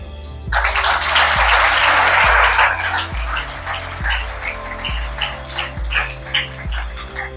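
A church congregation breaks into applause during a sermon: a dense burst of clapping swells loudly for a couple of seconds, then thins out over a steady, rhythmic low musical beat that runs throughout.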